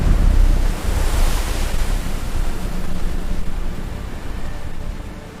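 Floodwater rushes along a rising river in a steady, loud, broadband roar that surges slightly but never lets up, with wind-like noise throughout and no voices.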